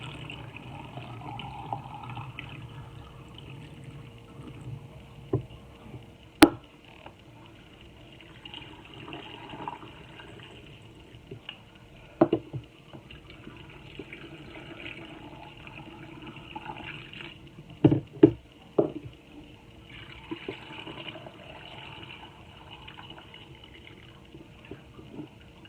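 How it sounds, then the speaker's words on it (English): Cold tap water runs into canning jars in a kitchen, a quiet trickling and filling sound broken by a few sharp clinks of glass, spread over a long, calm stretch with no speech. "I'm just filling them all up with just cold water from the tap."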